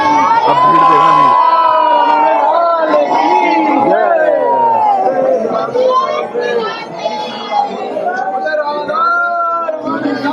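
Dense crowd of devotees at a Lakshmi temple in Belvan, voices of adults and children mixing into a loud, continuous hubbub close around, with shouts and cheers rising over the steady chatter throughout.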